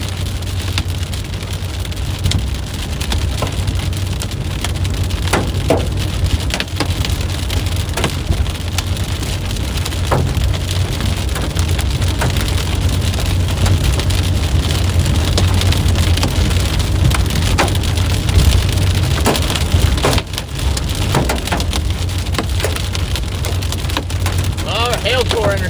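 Hail and rain batter a storm-chasing vehicle during a tornado-warned supercell in southeast Missouri, a dense, steady roar of drumming impacts with scattered sharper knocks on the body, loud and continuous throughout.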